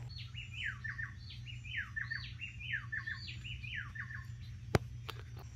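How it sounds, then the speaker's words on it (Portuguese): Several jungle birds sing in a campsite setting, a steady series of clear chirping, whistled phrases repeating across the stretch over a low constant hum, with one sharp click near the end. "No caminho a gente vai filmar alguns pássaros cantando"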